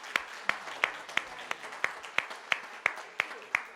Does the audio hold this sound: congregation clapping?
yes